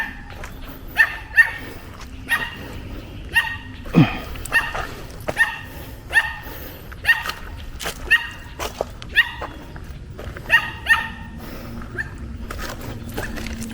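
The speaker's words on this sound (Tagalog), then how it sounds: "Ay, may mga aso." Several dogs bark repeatedly near a landslide site on Mount Maculot in Cuenca, Batangas: a steady run of sharp yips and woofs at a moderate distance, roughly one every second, over a low outdoor background.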